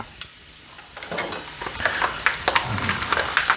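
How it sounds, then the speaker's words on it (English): A pat of butter lands in a hot pan after a sous vide steak, sizzling steadily and close, with clattering stirs and pan movement building over a few seconds. "And then we're going to drop a pat of butter in the pan."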